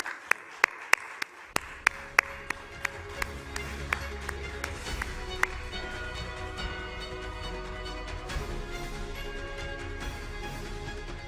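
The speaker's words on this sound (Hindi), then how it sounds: "जोरदार तालियों से स्वागत करें" Applause welcoming India's road transport minister Nitin Gadkari onto a stage, starting with a few loud isolated claps that swell into sustained crowd clapping over a low hum, continuing steadily to the end.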